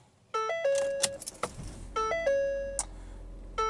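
A Ford's dashboard chimes as the key turns the car back on: a click, then a repeating sequence of clear electronic ding tones at close range, with a soft mechanical clack of the key between them.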